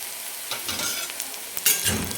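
Slit green chillies drop into onions frying for a spiced masoor dal and onion dish, producing a soft, close sizzle broken by brief stirring scrapes and clinks, with no voices.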